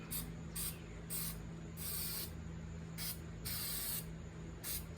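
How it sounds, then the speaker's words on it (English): Several short bursts of clear coat spraying from an aerosol can hiss, some brief and some longer, separated by pauses over a steady low hum. "now we are going to spray this"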